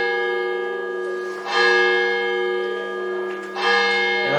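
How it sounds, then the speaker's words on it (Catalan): Church bells ring out over a town council session in Montserrat, two distinct strikes a couple of seconds apart, each followed by a long sustained ringing hum that carries on between them. "Anem a esperar que acaben de tocar les campanes."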